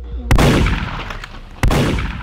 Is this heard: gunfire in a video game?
yes